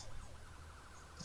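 Ambulance siren in a video game, a wailing tone sweeping up and down steadily and fairly loud throughout the short stretch, with game noise underneath.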